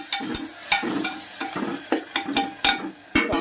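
Onions and tomatoes sauté in a pan for a brinjal and green pea masala curry, a continuous sizzle broken by regular rhythmic clacks and scrapes of a spatula stirring.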